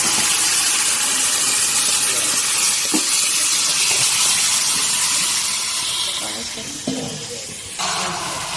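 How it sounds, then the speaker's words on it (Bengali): Marinated meat frying in a spiced masala, giving a loud, steady sizzle and hiss that fills the whole stretch, with faint utensil scrapes and a slight drop in intensity near the end. "মাংসগুলো এবার ভালোভাবে কষিয়ে নেওয়া হচ্ছে"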